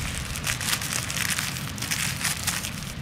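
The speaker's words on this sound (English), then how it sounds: "A plastic bag" A plastic bag full of 1p coins dug up outdoors is handled close by, giving a steady crinkling and crackling rustle for a few seconds with no talk.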